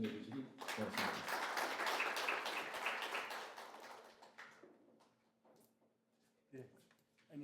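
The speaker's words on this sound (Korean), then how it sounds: "김무환 총장님을 큰 박수로 환영해 주시기 바랍니다." Crowd applause at a nuclear safety regulation workshop, a dense burst of clapping that swells early, then thins and fades into quiet with a few scattered claps near the end.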